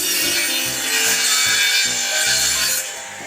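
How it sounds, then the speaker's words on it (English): A sawing machine cuts four lengths of timber at once in a workshop, a loud harsh continuous rasp over a rhythmic low thumping pulse, easing off near the end, with no speech. "with this machine we can put 4 lengths of timber all in and cut them all in one go"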